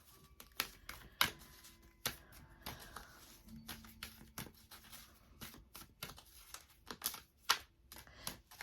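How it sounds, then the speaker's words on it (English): Tarot cards being shuffled by hand before a reading: a quiet, uneven run of crisp riffling clicks and soft papery snaps over about eight seconds, fairly close. "I'm going to do a couple more shuffles"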